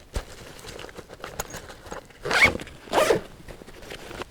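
A zipper on a Maxpedition Xantha internal frame backpack is pulled open in two loud, close, rasping strokes, preceded by soft handling rustles and no speech.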